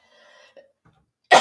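A woman gives a single sharp, loud cough at the very end, after a faint, quiet murmur.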